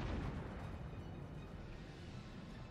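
Shell impact explosion on a warship in World of Warships, a dense low rumbling blast that fills the whole stretch, loud at the start and slowly easing off, with no talk over it.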